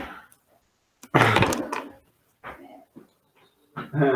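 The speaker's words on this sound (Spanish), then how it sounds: "el perro comenzó a ladrar" A dog gives a loud close bark and then a few shorter, softer yelps separated by brief silences.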